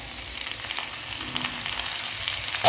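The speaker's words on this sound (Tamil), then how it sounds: "தக்காளி ஆட் பண்ணிட்டு தக்காளி கொஞ்சம் வதங்குற வரைக்கும் நல்லா கிண்டிக்கலாம்." Tomatoes fry with cooked onions in a pan for a mint chutney, giving a steady close sizzle with soft stirring scrapes and a small clink at the end.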